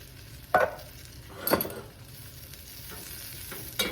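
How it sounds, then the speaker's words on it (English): Food sizzles steadily in a pan close by, broken by a few louder scrapes and clatters of stirring. "I'm just gonna let these fry until they're warm"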